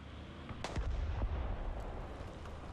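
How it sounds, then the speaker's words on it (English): A tank cannon fires through a building in War Thunder, a T-72 AV (TURMS-T): a sharp loud blast near the start followed by rumbling impacts and fading debris, with no talk. "So you can certainly shoot through the building right there."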